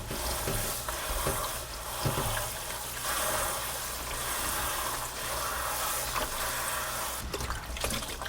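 Running water at a kitchen sink as dried flower petals are rinsed in a bowl, a steady close splashing and trickling with occasional clinks and stirring, no voices.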